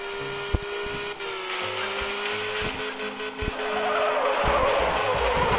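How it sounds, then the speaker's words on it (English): A yellow Lamborghini in a mobile racing game drifts with a long skidding tire squeal over a steady, high engine whine that grows brighter and louder toward the end, with short electronic game tones and no talking. "Very nice drift."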